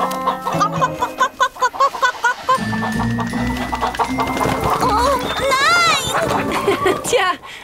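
Cartoon chickens cluck in a rapid, busy chorus of short clipped calls, joined by a rising, warbling squawk, as a voice speaks over the flock and playful music runs underneath.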